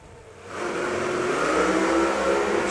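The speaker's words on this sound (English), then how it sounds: "It's Chuck 55 off the line first" Pro Mod drag racing cars with turbocharged engines launch off the line at a Bradenton drag strip, a loud sustained engine roar that swells after a quieter start and holds steady to the end.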